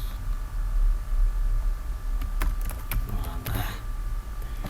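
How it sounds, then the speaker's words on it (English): A short run of light clicking taps on a computer keyboard sounds over a steady low hum, clustered near the middle of the clip. "So after typing your message"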